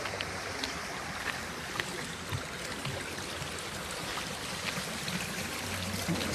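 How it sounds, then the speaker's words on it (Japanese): A river stream flows steadily at Ouchi-juku in Fukushima, Japan, a soft continuous wash of running water that holds the whole stretch without a break, with no voices over it. "川の音だけ聞こえますね。"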